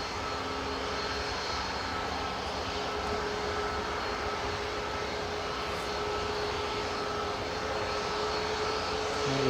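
A fixed-wing airliner at Newcastle International Airport makes a steady, fairly loud engine roar near the runway, holding even for the whole stretch and rising slightly at the very end, with no talk over it.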